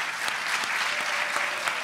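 A Think and Drink audience claps in a brief, even burst with a few sharper hand claps standing out, and no voices over it.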